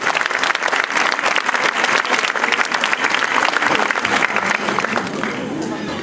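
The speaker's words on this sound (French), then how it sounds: "Oui, je pense qu'on peut applaudir ce projet." A hall audience claps steadily through a town mayor's New Year address, rewarding a medieval garden project with dense, sustained applause that holds strong for about six seconds before easing slightly at the end.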